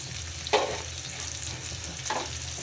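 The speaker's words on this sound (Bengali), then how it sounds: "পেঁয়াজটা আমার লাল লাল হয়ে ভাজা হয়ে আসছে, একদম লাল করবো না।" Onions browning in a pan give a steady, soft frying hiss throughout, with two brief louder scrapes as they are stirred.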